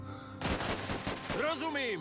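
Gunfire in the survival strategy game Last Train Home: a sudden burst of several rapid shots, loud and close, mixed with game effects and a voice talking through it.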